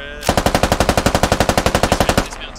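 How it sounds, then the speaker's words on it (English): Enemy machine gun fire in the tactical shooter game Squad, a single loud, close burst of about twenty evenly spaced rapid shots lasting roughly two seconds before cutting off. "Enemy fire."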